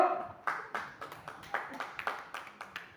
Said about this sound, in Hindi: जो लोग सो रहे हैं वो अपने लिए ताली बजा लो।